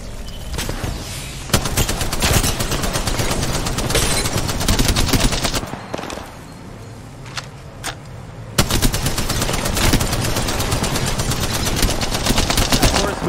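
Rapid automatic gunfire from a competitive shooter video game scrim, loud bursts and sustained fusillades filling most of the stretch with a brief lull midway, with faint voices underneath.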